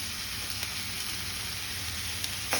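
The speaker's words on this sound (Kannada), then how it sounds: "ಸಾಕು ಇವಾಗ ಫ್ರೈ ಆಗಿದೆ ಇಷ್ಟು ಫ್ರೈ ಆದರೆ ಸಾಕು ನೋಡಿ" Masala frying in a pan for an egg and chicken curry, a steady close hiss of sizzling oil that holds without a break, with a faint stir or two and a small clatter at the very end.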